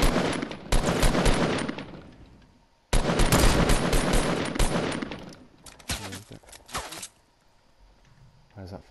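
Gunfire in Fortnite Battle Royale squad play, with two long dense bursts of rapid automatic fire, then scattered single shots and a brief gap of quiet, loud and close.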